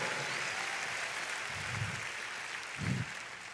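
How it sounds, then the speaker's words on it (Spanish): A church congregation claps in praise for several seconds, a steady broadband patter of many hands filling the room with slight swells near the end, no voices over it. "Démosle un aplauso a nuestro bendito Salvador."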